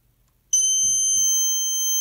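Snap Circuits 3D Illumination toy alarm switches on abruptly and holds a loud, steady high-pitched electronic tone, a continuous piercing beep with bright overtones, with faint low handling bumps beneath it.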